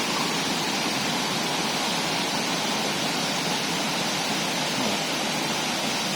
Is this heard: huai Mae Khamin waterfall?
yes